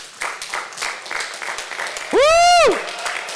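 Applause at a joint military commissioning ceremony after an oath of office, the clapping joined by a loud rising-and-falling whoop or whistle-like cheer near the end, with voices in the crowd.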